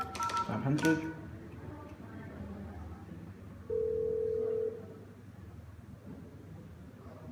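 A Yealink desk phone being dialed, giving a quick run of keypad tones early on and later a single longer steady tone, all fairly quiet and mixed with a person speaking.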